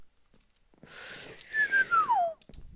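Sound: human whistling

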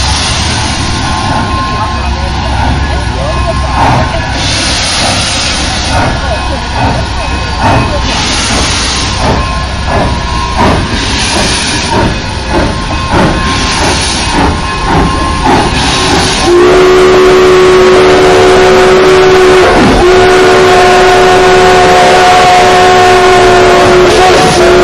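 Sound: steam locomotive whistles at Durango and Silverton railfest

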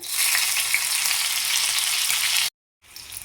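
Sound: green chillies frying in oil

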